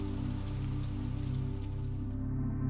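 Steady rain falls in an even, quiet patter with a soft, continuous hiss and no pauses, its upper brightness fading out near the end; no voices are heard.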